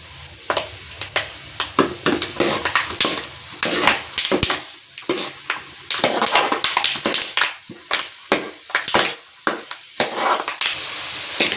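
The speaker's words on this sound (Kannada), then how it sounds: "ಶೇಂಗಾ ಕಾಳು ಸ್ವಲ್ಪ ಕಂದು ಬಣ್ಣ ಬರೋವರೆಗೂ ಫ್ರೈ ಮಾಡ್ಕೋಬೇಕು." Peanuts fry in a pan until brown, with sizzling and frequent sharp taps and scrapes of a spatula stirring them in irregular bursts, close and loud, no talking.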